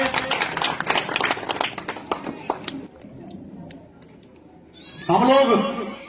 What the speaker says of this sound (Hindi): कमलों से जोरदार ताली होनी चाहिए।